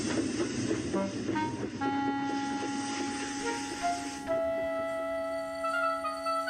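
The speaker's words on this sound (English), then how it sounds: "As they waited, Edward arrived with a maintenance train." A train rumbles in and slows, its horn sounding a sustained tone that rises and holds as it draws near.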